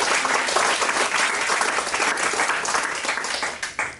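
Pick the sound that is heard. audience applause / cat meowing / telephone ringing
audience applause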